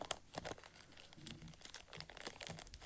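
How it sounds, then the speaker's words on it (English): A plastic bag handled up close while making beaded leather earrings in a cold garage, quiet irregular crinkles and rustles in short bursts with no talking. "Anybody else mess with plastic bags that have oodles of trouble, especially when you turn the camera on?"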